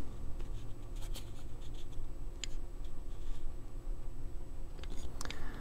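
A pencil marking a line across balsa wood for an RC plane fuselage, with light scratchy strokes and a few small ticks close by over a steady background hum.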